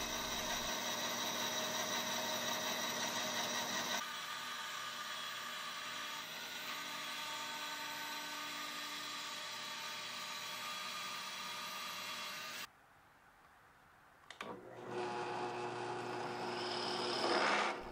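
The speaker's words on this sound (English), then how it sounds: "I take the block of wood over to the bandsaw and cut the knobs loose" Bandsaw cutting walnut and ebony knobs loose from a wood block, a continuous droning motor hum with cutting tone, a brief pause, then the saw running up loudly again.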